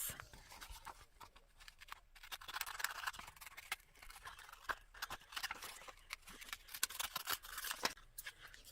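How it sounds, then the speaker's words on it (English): Small scissors trimming around punched and stamped paper card for artist trading cards: quiet, irregular snips and rustling paper handling, close and faint with no talk. "grab my little scissors so that I can trim around this"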